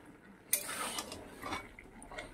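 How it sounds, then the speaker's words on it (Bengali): A utensil stirs chicken in a cooking pan, producing faint scraping clinks and soft sizzling over a couple of seconds, with one brighter metallic knock near the start. "এবার একবার নেড়ে দেব।"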